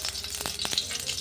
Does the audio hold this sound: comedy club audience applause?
no